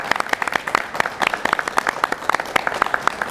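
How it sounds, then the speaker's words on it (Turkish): Applause from a studio audience at the close of a village coffeehouse cooking show about orange dishes, a steady patter of many hands clapping at moderate loudness with a faint voice underneath. "Onlara kıymetli alkışlarımızı gönderiyoruz."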